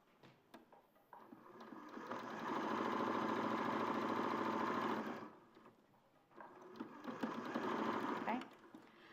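A sewing machine stitches a U-shaped seam in two long motor runs of steady whirring hum and needle chatter, separated by a short pause, close and loud.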